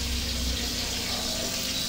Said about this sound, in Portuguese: tudo com controle remoto, já dou descarga aqui ó